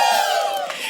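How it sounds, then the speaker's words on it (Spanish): A crowd shouts a cheer together in unison, one loud, brief collective cry that fades quickly. "¿Podemos acompañar el grito de Vasconcelos ahí para que no me quede solo"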